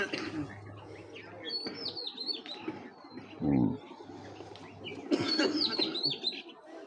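Racing pigeons, three hens, call and coo in repeated bursts close by, with brief chirps over a low steady hum and faint voices nearby.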